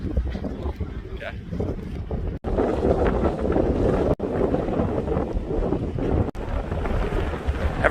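Strong wind buffets the microphone at an evening beach on the Florida coast near Marco Island, a loud continuous roar with gusts and brief dropouts, and people talk faintly underneath.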